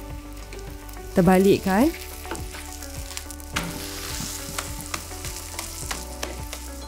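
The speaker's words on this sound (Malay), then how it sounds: "panaskan kuali, grease minyak dan bolehlah goreng" Roti canai fries in a thick greased wok with margarine, a steady crackling sizzle running throughout, with a short burst of a voice near the start and faint clatter over the hiss.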